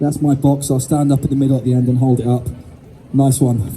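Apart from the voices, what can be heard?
No everyday noises stand out.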